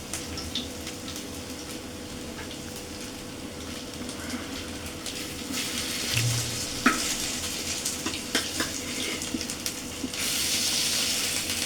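Prawn fritters shallow-frying in a little oil give a steady close sizzle, with scattered clicks and scrapes from a spatula, and a brighter hiss swelling near the end; no one speaks.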